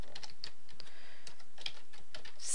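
A short run of quick keystrokes on a computer keyboard types out a word, the clicks close and crisp in an uneven rhythm, with no voices.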